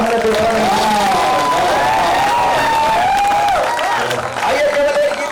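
Audience applause and cheering fill a crowd at a Hindi patriotic poetry recital, steady and loud throughout, with a voice carrying over the clapping.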